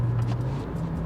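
A Hyundai Verna engine drones steadily during a quick DCT downshift from fifth gear, a low, close hum that rises slightly in pitch partway through, heard from inside the car.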